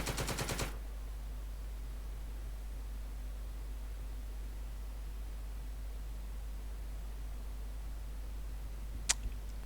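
A short, rapid burst of gunfire from a Normandy beach landing video game opens the stretch, then gives way to a long, faint, steady hiss with one sharp click near the end.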